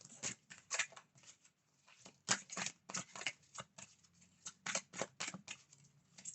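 Tarot cards are shuffled and drawn in a quiet room, with soft, irregular bursts of papery flicking and riffling close by and brief pauses between them.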